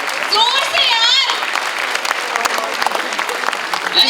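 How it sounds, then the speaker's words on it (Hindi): A crowd at an event claps and cheers together, with excited voices and a few high whoops over the dense applause, loud and close from start to finish. "एक बार तालियां बजा दो"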